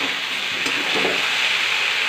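Leafy greens with pre-fried lentil dumplings being stirred and fried in a pan give off a steady, close hiss and sizzle, with a soft scrape of stirring partway through.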